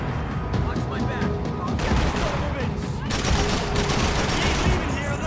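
Dense, loud gunfire from Max Payne 3 rattles almost nonstop in rapid overlapping bursts, with shots and impacts layered over in-game combat noise and no pauses between volleys.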